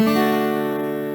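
A single acoustic guitar strum in a gospel-style Amazing Grace solo, with the ringing chord sustaining and slowly fading over about a second, heard alone and close.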